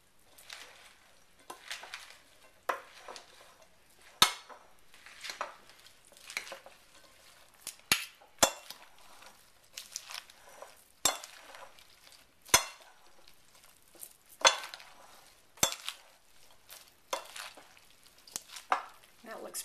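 Chipotle chicken salad with dressing being tossed in a bowl, soft rustling of leaves with intermittent sharp clicks and taps of utensils against the bowl, close and quiet, no talking.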